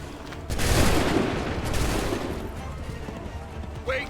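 Musket volley in Assassin's Creed 3: a dense burst of many overlapping shots cracks out together, then a rumbling, decaying wash of gunfire trails off, with a brief sharp report near the end.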